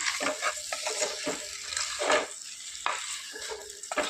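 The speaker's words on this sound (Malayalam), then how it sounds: "ഇനി നന്നായിട്ട് അതിൻ്റെ ഗ്രേവിയൊക്കെ എല്ലായിടം വരത്തക്ക രീതിയിലൊന്ന് മിക്സ് ചെയ്ത് ചേർത്ത് കൊടുക്കാം." A spoon stirs rose apple pickle and its gravy in a pan, scraping and sloshing in uneven strokes over a soft steady sizzle, close and fairly loud, without talk.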